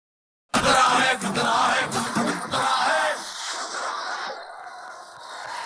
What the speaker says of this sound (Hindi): एक बार आदि के लिए जोरदार तालियां